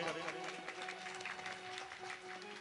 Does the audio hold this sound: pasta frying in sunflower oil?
no